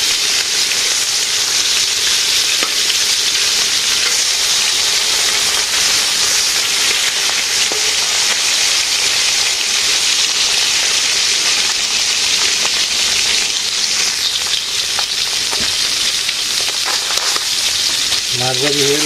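Fish frying in hot oil, a loud, dense, continuous hiss and sizzle that stays steady throughout, with a brief other sound near the end.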